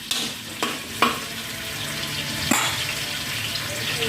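Chopped onion and garlic are added to a hot pan and fry with a steady sizzle, broken by a few sharp clacks of utensils stirring, close and fairly loud.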